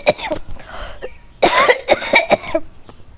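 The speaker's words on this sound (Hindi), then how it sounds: "देखा कैसे खांस रही हैं" An elderly woman who is ill with a cold coughs repeatedly, several harsh close bursts grouped together with short pauses between them.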